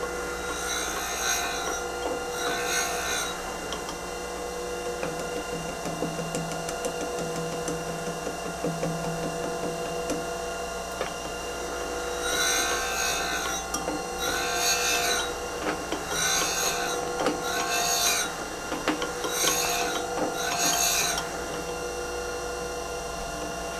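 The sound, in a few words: grinding wheel grinding metal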